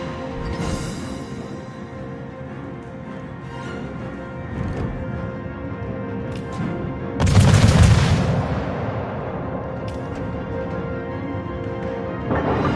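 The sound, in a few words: naval gunfire from French destroyer Jaguar in a warship video game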